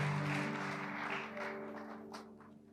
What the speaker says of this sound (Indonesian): Boleh kasih tepuk tangan yang luar biasa buat worship leaders dan para musicians